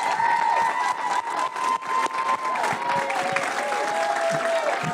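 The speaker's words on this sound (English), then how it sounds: "I'd love to just clap it up." Loud, sustained applause from a large audience, with clapping and crowd noise filling the whole stretch.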